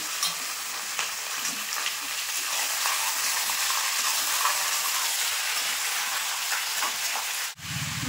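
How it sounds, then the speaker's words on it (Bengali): Chicken and onions fry in a pan with a loud, dense, continuous sizzle and hiss, stirred close up, ending with a sudden knock and a low hum. "মাংসটা কিন্তু আমি অনেকক্ষণ ধরে রেড়ে দিয়েছি"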